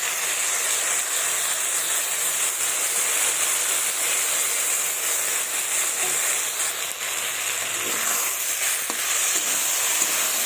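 Soaked mung dal and poppy seeds tipped into a hot pan and stirred, giving a steady, dense sizzle and hiss throughout with faint scraping near the end, no voices.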